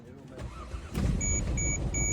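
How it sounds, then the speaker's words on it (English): A car engine cranks and catches after a boost from a VTOMAN X7 jump starter, settling into a steady nearby idle while a few short electronic beeps repeat over it; a person talks just before the start. "After 10th attempt to turn it on the car, it jumps right up"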